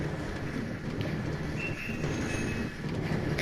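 A train rumbles along in the Minecraft video game, a continuous close clatter of wheels on rails with faint squeals, steady and loud with no talk.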